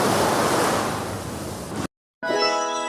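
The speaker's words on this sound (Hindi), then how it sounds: "लहरें बहुत ज़्यादा ऊबड़ खाबड़ हैं और पानी ज़्यादा भूरा है" Rough ocean waves with brownish water crash on a beach in a loud, broad wash of surf that cuts out abruptly, then returns briefly.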